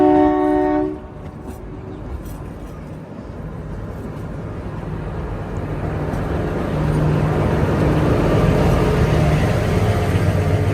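A Kalka-Shimla toy train, the Himalayan Queen, sounds a short horn blast at a mountain station stop, then a loud, steady rumble of the narrow-gauge train that builds and holds close by.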